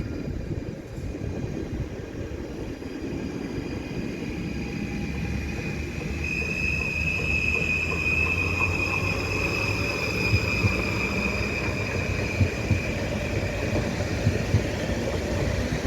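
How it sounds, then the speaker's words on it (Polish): A Flirt electric multiple unit train pulls away from Bydgoszcz Wschód station, a steady rolling rumble with a rising electric whine that grows louder, plus faint wheel squeal and clicks of wheels on rail joints. "Czekamy na odjazd flirta, a już nawet odjeżdża."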